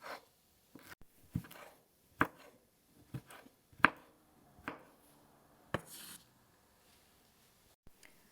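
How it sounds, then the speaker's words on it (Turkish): A knife chops through tough aloe vera peels on a board, sharp irregular cuts with pauses between them, close and distinct. "alalım aloe vera'nın kabuklarını. Bir güzel doğrayalım"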